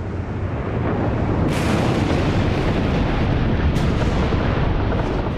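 Mount Sinabung volcano in northern Sumatra erupts during its February 2018 eruption, sending out a loud, continuous roaring rumble with two sharp bursts cutting through.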